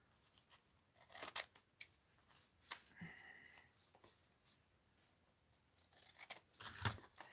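Scissors trimming the ends of decorative tape, several quiet snips and crinkling of tape and paper, close and soft, no talking.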